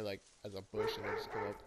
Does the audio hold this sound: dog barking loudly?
yes